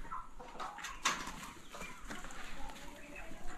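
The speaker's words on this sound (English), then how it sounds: "Those are broilers meant for meat." Broiler chickens raised for meat cluck softly on a poultry farm, with scattered short calls and one sharper squawk over faint background noise.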